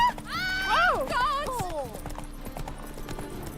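The horse Roach trots along in a video game, hooves clip-clopping steadily under a brief whinny and voices speaking over the top.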